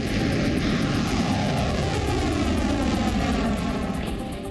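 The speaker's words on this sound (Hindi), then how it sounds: "इजरायली फाइटर जेट्स ने गाजा पट्टी में बमबारी जारी रखी।" Israeli fighter jets flying over Gaza produce a loud, steady, continuous roar that holds for several seconds and eases slightly at the end, with no voices.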